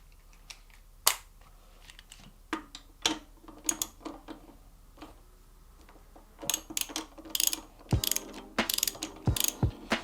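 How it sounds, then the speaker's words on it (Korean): A 10mm socket wrench ratchets screws loose on a top box bracket for a Royal Enfield Himalayan, making bursts of sharp close clicking with pauses between them. The clicks grow denser toward the end, and no voices are heard. "이두 개만 나사를 풀면 되는데 이 나사는 10mm 복살 소켓 렌치를 사용을 하시면 됩니다"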